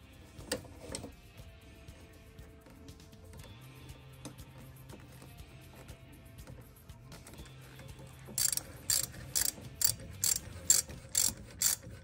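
Ratchet tightening bolts on a replacement brake caliper of a Dodge car, a quiet mechanical stretch that ends in a run of sharp, evenly spaced ratchet clicks up close.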